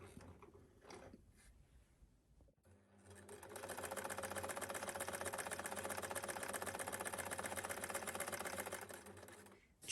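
Domestic sewing machine stitching the final row of a fabric purse: a brief start at the beginning, then steady loud continuous motor hum and rapid needle chatter running for several seconds, with no talk.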